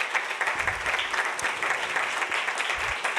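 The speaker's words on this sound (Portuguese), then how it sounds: "eu queria pedir uma salva de palmas para ela," Audience applause at a municipal council session honoring a school, a dense wash of clapping from a seated crowd in a hall, moderately loud, with a few stronger claps standing out and no speech over it.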